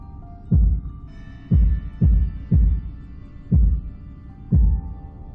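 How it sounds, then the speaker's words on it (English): Heartbeat tempo puzzle sound in the horror game Tormented Souls: five deep, booming thumps in an uneven rhythm, some paired close together and others spaced apart, loud and alone over a faint tonal drone. "there is a tempo to the heartbeat, and that's what we will have to recreate up by that door in order to open it"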